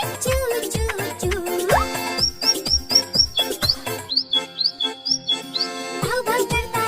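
In a kids' cartoon rhyme, a bird chirps in quick repeated high tweets over bouncy music. A singing voice runs alongside and imitates the chu-chu call.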